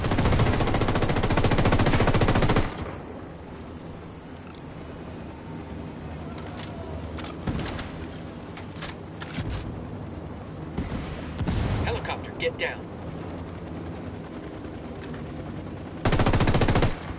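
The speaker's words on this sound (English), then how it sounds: "Fucking Apache's about to fire." An Apache helicopter's gunfire in a video game, bursting as loud, dense rapid-fire roars at the start and end, with scattered sharper shots and crackling impacts in between.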